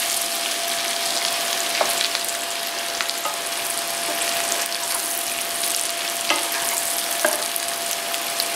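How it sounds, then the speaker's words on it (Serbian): Young potatoes dusted with sweet paprika sizzle steadily in a hot pan, a loud continuous frying hiss broken by a few sharp clicks and scrapes as they are stirred. "ovako promešamo i nastaviti da pržimo još 10-ak minuta"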